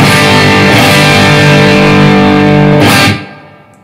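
Electric guitar played through an amp with power tube distortion set to 50%, a loud, thick distorted tone sustaining for about three seconds and then cut off, leaving a fading tail.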